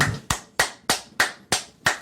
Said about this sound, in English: Booty clapping sounds.